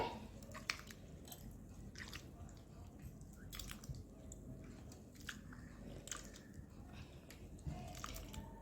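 Tomato and tamarind squeezed and mashed together by hand in a bowl for rasam, making close, soft wet squelches and drips in a steady, irregular rhythm with no talking.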